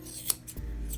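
Grooming scissors snip once or twice at a small Yorkie's fur around the paws, short metallic clicks close up and otherwise quiet.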